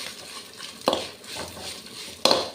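Masala fries in a pan with a moderate sizzling hiss, and two sharp utensil scrapes against the pan stand out over it.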